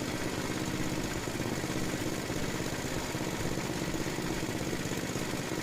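Small engine of an Estate by Murray 8/27 dual-stage snow blower idling after an idle mixture adjustment, a steady even drone with no breaks, fairly close and alone.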